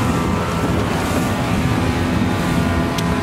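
A 2002 Sea Doo Islandia 22-foot boat runs on open water, its engine roar blended with constant rushing wind and water noise, loud and unbroken throughout.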